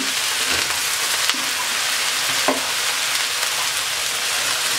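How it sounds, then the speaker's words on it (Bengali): Chopped carrot, beans and potato sizzle steadily in a frying pan for a mixed vegetable bhaji, with scraping stirs against the pan at a few points and no voices. "আলু কুচি এবার একটু নাড়াচাড়া করে দেবো"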